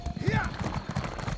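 Horse hooves clip-clopping in a steady rhythm in The Elder Scrolls Online as the mount turns in circles, close and moderately loud, with someone talking over them.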